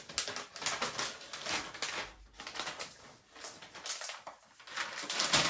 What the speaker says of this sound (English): Unwrap this thing.